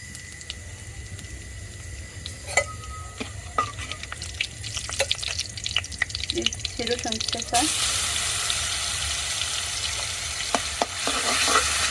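Cumin, bay leaf and cardamom hit hot oil in a wok, bursting into loud crackling sizzle with scattered pops and stirring scrapes that build into a dense, continuous fry.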